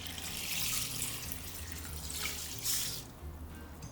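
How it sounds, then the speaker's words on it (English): Tap water runs steadily into a large bowl of rice set under a sieve, a continuous close splashing hiss with a brief surge near the end before it eases off. "Fill the bowl with water."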